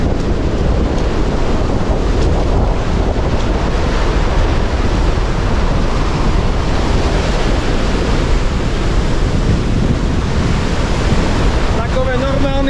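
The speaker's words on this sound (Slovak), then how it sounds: "Trošku väčší vlnky." Waves at a river mouth on the Bulgarian coast: a loud, unbroken wash of surf and rushing water with wind buffeting the microphone, steady throughout.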